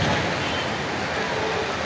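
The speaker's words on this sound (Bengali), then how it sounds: "বৃষ্টি পড়তেছে এখন।" Heavy rain falls steadily in a dense, continuous roar, with wind blowing through trees, loud and close without a break.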